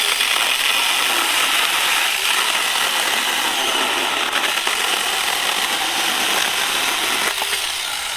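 A TomyVic 6-inch mini chainsaw cuts through fairly thick firewood, its small motor droning loud and steady with a constant buzzing rasp throughout, no voices.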